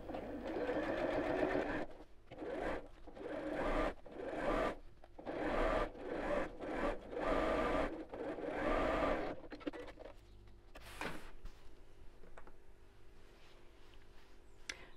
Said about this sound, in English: So sew through all layers, and you go quite close to the edge,